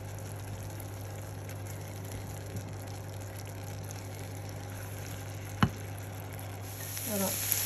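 Ground meat fries gently in a pan, with a soft, steady sizzle under a constant low hum, one sharp clink partway through and a light stirring scrape near the end.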